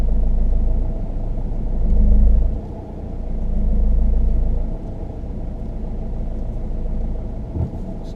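A car rolls slowly along close to the curb during a driving lesson, its low engine rumble steady and near, swelling gently twice before settling into an even idle-like drone with no talk.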